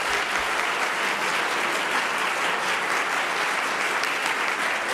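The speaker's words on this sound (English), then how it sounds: "Let's give a round of applause for our panelists." A breakfast crowd at an annual mayors and business leaders gathering applauds the panelists, a dense, even wash of many clapping hands sustained loudly throughout.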